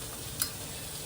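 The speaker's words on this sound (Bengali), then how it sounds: "এখন একটু নেড়ে চেড়ে নিচ্ছি" A spoon stirs mutton curry in a hot pot, giving a short soft scrape with a faint sizzle beneath, one brief stroke in an otherwise quiet moment.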